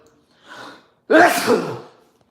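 A single loud sneeze bursts out near the microphone, preceded by a softer sharp inhale about half a second earlier, then quiet.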